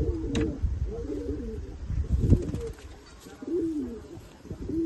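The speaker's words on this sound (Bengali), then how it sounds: "টিবলার? টিপলার পায়রা" A tippler pigeon, a closed-tail bird in a loft collection, coos in several rolling phrases, close and clear, with scattered clicks and rustling between calls.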